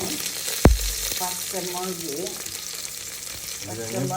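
Curry leaves, ginger and garlic crackle and sizzle in hot oil for a chicken parts dish, opening with a sharp thud as they hit the pan, then a steady hiss with soft stirring.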